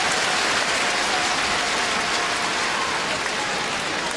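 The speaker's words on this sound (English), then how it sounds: "Chinese crowd." A Chinese crowd roars and claps at a men's doubles badminton final at the World Championships, Cai and Fu against Ko and Yoo. The noise is a dense, steady wash of sound, loud and unbroken, with no clear voices on top.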